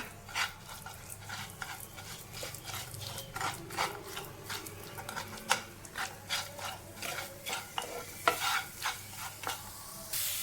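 A jaggery mixture is stirred in a pan while it melts and thickens for a banana bread snack, giving steady scraping and rubbing strokes with a soft sizzle underneath, continuous and close throughout.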